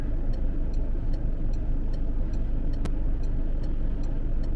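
A car drives along a road on the way to a local butcher, swinging right onto Dixon Road, a steady broadband engine and road rumble with a faint ticking, alone without talk.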